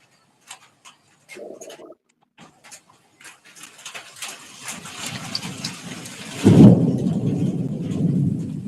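A rolling thunder and lightning effect plays loudly and alone, a deep crack bursting into a long heavy rumble with rain-like hiss after a few scattered clicks and knocks.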